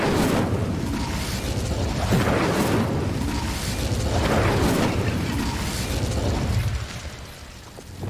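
Repeated fiery bursts from the Incendio spell in Hogwarts Legacy whoosh and pop every second or so against a dense rumbling background, fading near the end.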